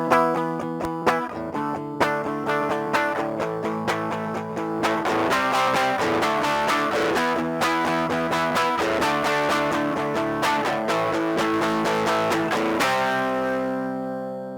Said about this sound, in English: So now I'm going to be introducing some overdrive and distortion.